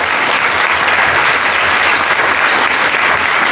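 Steady, dense applause from a church congregation at a Sunday Easter-season Holy Mass in a parish hall, loud and sustained without a break for the whole stretch.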